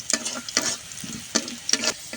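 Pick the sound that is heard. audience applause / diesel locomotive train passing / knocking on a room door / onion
onion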